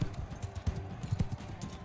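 Soft, muffled horse hoof clip-clops in the video game Mount & Blade II: Bannerlord patter in an uneven running rhythm, faint and somewhat distant.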